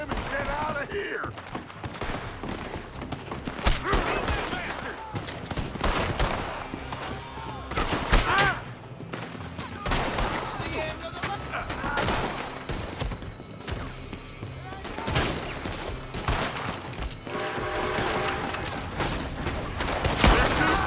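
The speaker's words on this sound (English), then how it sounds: "They're shooting from that building." Rapid volleys of gunfire ring out from a building in Red Dead Redemption 2, dense overlapping shots and bursts with crashes, ongoing throughout amid scattered game voices.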